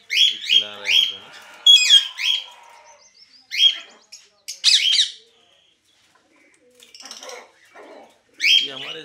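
A big pet parrot squawks and chirps in loud, sharp repeated bursts, with pauses of near silence between the calls.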